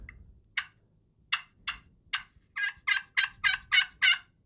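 Slate turkey call played loud to imitate a gobbler, a series of about ten sharp raspy yelps that start spaced apart and then come quicker and louder toward the end, close and alone.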